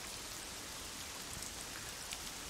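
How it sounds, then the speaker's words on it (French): Steady rain hiss in the racing video game Assetto Corsa, a soft continuous patter of drops filling the whole clip at low volume, with no voices. "la pluie va s'accentuer"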